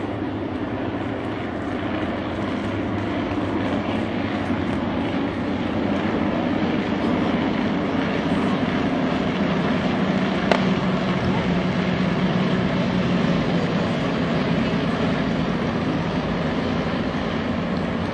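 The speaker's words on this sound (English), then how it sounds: "So a Vic of 5 triplanes, then 3 triplanes, and then the Fokker D7" Droning engines of WWI Fokker Dr.I triplanes and a Fokker D.VII flying in formation hum steadily overhead for a long stretch, several engines blending into one continuous, fairly loud buzzing roar.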